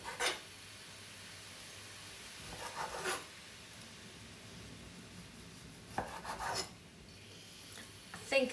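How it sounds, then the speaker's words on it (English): A knife slices pork tenderloin into thin slices on a board, producing several short close cuts and scrapes in loose clusters over a quiet background, with no talking. "you can either cut your pork into cubes if you want to, but I'm using tenderloin, so I'm going to cut mine into about 1 centimetre"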